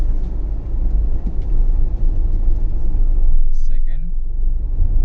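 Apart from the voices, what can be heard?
Tata Altroz diesel car driving in city drive mode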